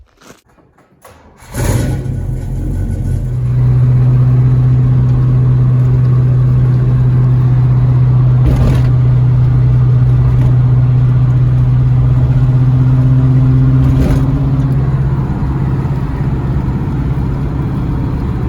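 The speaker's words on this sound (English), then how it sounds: "what it sounds like and how fast the fan runs when it's just idling with the old alternator" A 1979 El Camino SS engine starts and settles into a steady, loud idle with the old alternator, a constant low hum and fan whir, broken by a couple of brief clicks.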